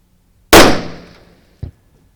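A single sniper rifle shot cracks out loud and close at a gel target, its boom trailing off over about half a second, followed by a shorter, sharp secondary report a moment later.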